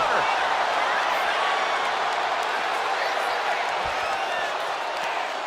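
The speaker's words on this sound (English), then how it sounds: "Listen to this crowd." A wrestling arena crowd in WWE 2K25 roars and cheers in a steady, dense wash of noise that holds loud for the whole stretch without a break.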